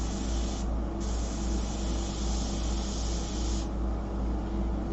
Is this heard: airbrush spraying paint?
yes